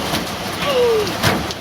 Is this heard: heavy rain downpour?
yes